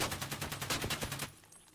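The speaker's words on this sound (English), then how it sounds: "I just enjoy going over here to test out the recoil patterns of some guns and test them at range" Rapid automatic gunfire on a shooting range in the video game Escape from Tarkov, a fast burst of about a dozen sharp shots in quick rhythm that stops abruptly, fairly loud with no talk.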